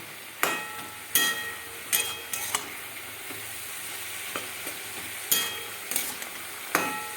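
Kalai saag is stirred in a pan, with a spatula scraping and knocking in sharp, irregular strokes over a faint sizzle, close up and alone.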